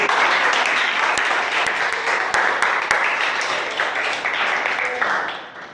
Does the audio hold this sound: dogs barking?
no